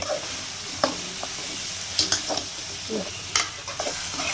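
Tomatoes sauté in oil for semiya upma with a steady sizzle, while a spatula stirs and scrapes the pan in occasional sharp knocks, close and alone without voices.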